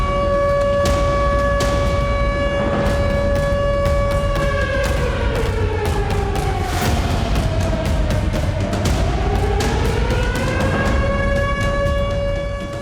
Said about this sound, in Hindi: परमाणु युद्धाभ्यास के दौरान पूरे रूस में सायरन बजे